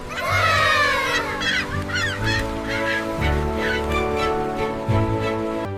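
Honking calls of geese or similar fowl ring out repeatedly and loudly near palms on an island, layered with bright overlapping squawks and a steady low background hum.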